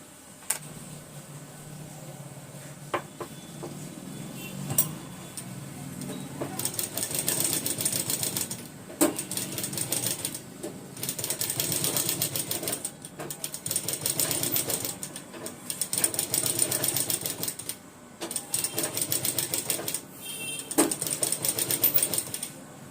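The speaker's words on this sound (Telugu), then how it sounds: "ఈ రౌండ్ గీత వెంబడి కుట్టండి." A sewing machine stitches cloth along a drawn round line for tailoring, running in a steady whirring, rapid clatter for several seconds at a time, pausing between runs, with faint handling noises in the gaps.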